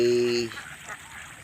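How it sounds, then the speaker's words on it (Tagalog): Pet domestic ducks let out a short nasal quack at the start, followed by quieter splashing and water movement close by. "yung alagang itik natin uh, medyo bitin na po sila sa kanilang pagkain"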